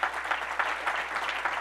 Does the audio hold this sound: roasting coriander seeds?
no